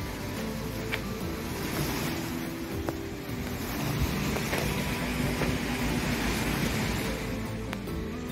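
Ocean surf heard from a sixth-floor beachfront unit, a steady distant wash of waves rolling continuously with faint wind, no voices.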